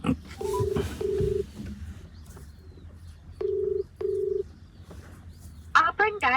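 Four steady ringback tones pulse in pairs against a quiet room, while a few voices and bird calls are heard briefly at the start and end.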